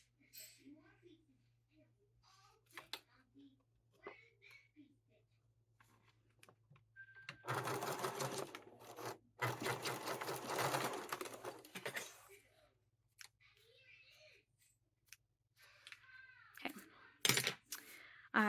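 A sewing machine stitches across fabric while a sling bag is being made. It runs steadily and fairly loud for about five seconds, with quieter handling and clicking sounds before and after.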